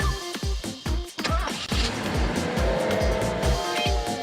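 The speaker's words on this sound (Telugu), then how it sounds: "డ్రైవర్ బండి స్టార్ట్ చెయ్యి." A vehicle starts up and pulls away, loud car engine and tire noise rising and continuing steadily over several seconds with a few rhythmic thumps at the start, no talk.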